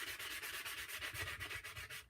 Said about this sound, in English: This sanding block doesn't seem as harsh as the other one